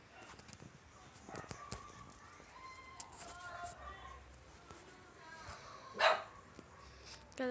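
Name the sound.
dog barking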